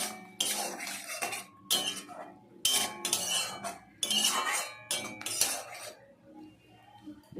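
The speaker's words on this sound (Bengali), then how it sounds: "এতে আমি সর্ষে পোস্ত দেবো। দিয়ে ভালো করে মিশিয়ে দেবো।" A spoon scrapes and clinks around a pot as mustard-poppy seed paste is mixed into boiled pointed gourd, with several bursts of stirring separated by short pauses and no talking.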